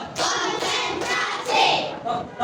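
Children clap their hands in a counting game in a classroom: a few quick bursts of clapping in close succession, fairly loud and close, with no talk.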